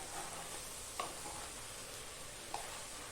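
Potato and egg mixture with turmeric stirred in a pan: a soft continuous sizzle and scraping with two faint spoon clicks, no voices.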